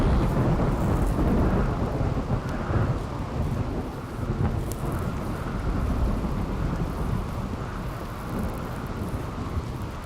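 Rain and a thunderstorm in the video game Rimworld: a steady, dense roar of rain with low thunder rumbling throughout, loud and continuous, with no voices.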